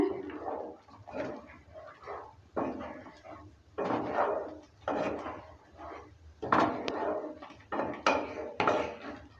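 A spatula stirs paneer and spinach in a cooking pan, making soft, rhythmic scraping and clattering strokes at a steady pace, fairly close and moderately quiet.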